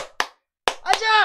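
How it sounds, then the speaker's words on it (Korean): A few sharp, loud hand claps from a single person in a morning stock-market broadcast, spaced irregularly, the last one followed by an energetic shout. "오늘도 힘차게 박수치면서"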